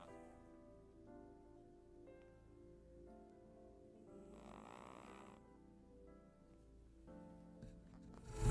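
A character snores in the video game AI: The Somnium Files, in slow, faint, repeating breaths over quiet background music that swells briefly at the end.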